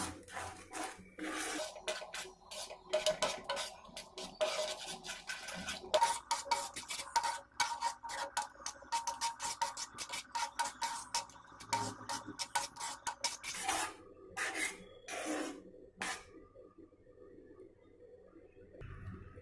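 Aval payasam being stirred and mixed in a pot, with steady, quiet scraping and rubbing strokes of a spoon in an even rhythm before a short silence at the end.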